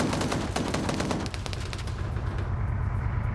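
Rapid bursts of gunfire in an Arma-style video game battle, with a Humvee-mounted M2 in the fight, crackle densely and loudly for a few seconds before thinning out toward the end.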